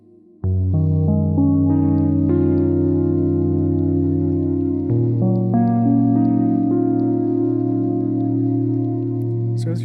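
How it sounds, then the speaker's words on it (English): Instrument preview on a mood 1 setting with a wobbly, distorted lo-fi character: sustained layered chords and melodic notes with shifting pitch, playing steadily for about ten seconds. "has a bit more of a wobbly, distorted, and lo-fi sound to it"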